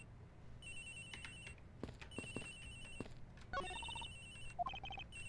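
A cell phone ringtone keeps repeating in short bursts of high beeping tones in Ace Attorney Investigations, with brief clicks and soft thuds between the rings.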